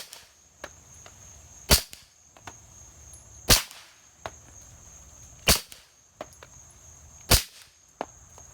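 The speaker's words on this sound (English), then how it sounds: "the sound of the Odessa you hear in my videos, including this one and others where the Odessa 9 is featured, is very, very close to the actual real life sound" Four suppressed 9mm pistol shots fired through a Dead Air Odessa 9 suppressor, sharp and evenly spaced about two seconds apart, with a constant high insect-like hiss in the background between them.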